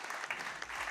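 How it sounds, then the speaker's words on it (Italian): Audience applause at a football awards gala, a steady wash of many hands clapping heard from within the hall, moderately loud and continuous for a brief moment. "Farei un grande applauso"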